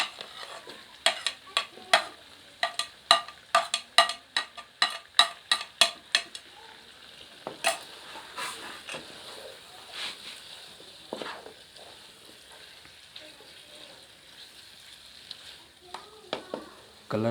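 Tomatoes and green chillies fry in a chicken karahi, dhaba style. A quick run of rhythmic spoon taps and scrapes against the pan gives way to scattered stirring over a low, steady sizzle.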